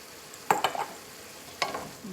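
Hamburger meat with garlic and jalapeno is stirred in a pan, a few quiet scraping clacks of the utensil over a faint sizzle, in two short bursts.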